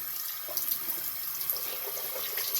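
Warm water runs from a tap into a bathroom sink, a steady bright splashing and hissing stream that carries on throughout, close and moderately loud.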